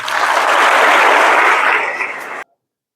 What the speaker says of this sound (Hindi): उनके लिए जोरदार एक बार और तालियां बजा दें